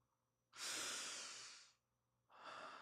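One long, close, airy breath fills about a second and then fades, and a second breath begins shortly after; both are soft and quiet, with no voice.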